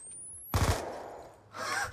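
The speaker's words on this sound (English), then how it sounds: "I now have no sniper, so I'm gonna go for a machine gun shot." A machine gun shot in a video game trickshot match: a short burst of rapid gunfire with a bright muzzle crack, then a decaying tail and a second burst near the end, loud with no talk.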